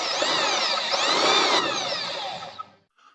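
Homemade budget drum sander, a chuck driving a threaded rod, running noisily with a loud whining motor hum that wavers in pitch, then winds down and stops with a small knock near the end.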